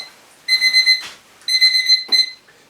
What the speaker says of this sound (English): it's just the food timer, or the kitchen timer